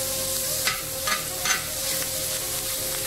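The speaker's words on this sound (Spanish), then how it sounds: "Le voy a poner el tocino para que suelte más grasita." Bacon frying in a discada pan to render its fat, giving a dense continuous sizzle with a few brief crackling bursts and no talk.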